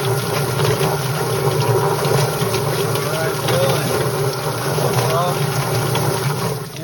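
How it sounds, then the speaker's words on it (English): A chicken plucker runs on a poultry-processing farm with a steady, loud whirring churn and rushing water spray, voices talking faintly beneath the machine throughout. "Take you over to the plucker now."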